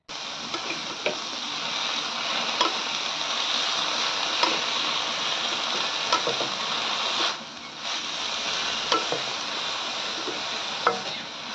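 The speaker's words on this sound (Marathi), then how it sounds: "आता कांदा आणि मिरचीमध्ये ही भाजी छान परतून घ्या" Cowpea leaves sauté with onion and chili in a pan, a dense, even sizzle carrying on throughout, broken by occasional light taps and scrapes as the greens are stirred.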